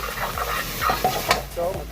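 Swiss chard and onions sizzle in a pan while a spoon stirs them, giving a steady frying hiss broken by soft scraping strokes, close up and with no talk.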